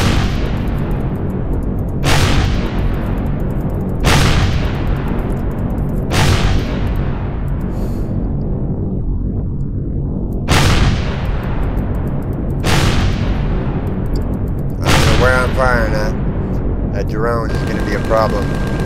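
Rockets fired at shields in the Empyrion Galactic Survival video game, heavy booming blasts landing about every two seconds over a constant low rumble, with faint electronic chirps near the end.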